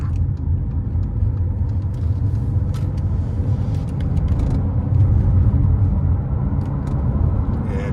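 A Mercedes GLA 200d diesel engine hums steadily from inside the cabin, a low rumble that swells slightly as the car picks up speed and changes gear smoothly.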